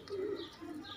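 A prized black Chinese female pigeon at a breeder's loft gives a low, rolling coo that swells and fades over about a second, close and clear against a soft background hiss.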